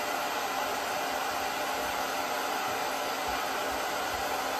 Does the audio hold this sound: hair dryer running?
yes